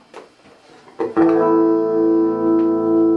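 A clean, unaffected electric guitar chord rings out after a few quiet plucked notes, sustaining evenly and slowly fading.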